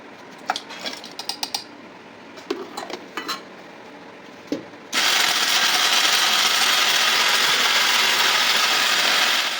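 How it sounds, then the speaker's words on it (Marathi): A kitchen mixer grinder grinding masala: first a few seconds of rattling clicks and clatter as the jar is set in place, then the motor kicks in with a loud, steady high-pitched whir to the end. "मिक्सरमध्ये मसाला वाटून घेऊया"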